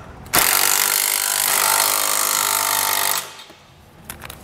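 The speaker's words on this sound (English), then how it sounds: "I'm going to come back and tighten these up" Power tool driving and tightening bolts on a Roadmaster Direct-Connect base plate being mounted on a 2022 Chevrolet, one continuous loud burst of about three seconds that stops abruptly, followed by faint clicks.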